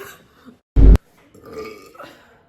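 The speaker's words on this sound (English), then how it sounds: "No, You can't burp." A single loud, short burp from a girl, close and abrupt, followed by quiet talking.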